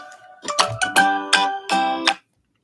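Mobile phone ringtone plays as a bright chiming melody in several loud bursts, clear and close, then cuts to silence.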